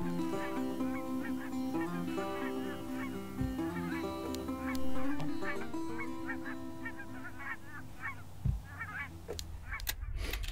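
Canada geese on Colorado's Front Range give a steady chorus of loud, overlapping honks from a sizable flock, continuous and close, with no talk over it.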